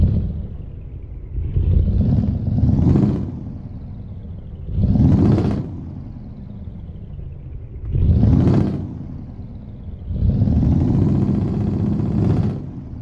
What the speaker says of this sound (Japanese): エンジン音、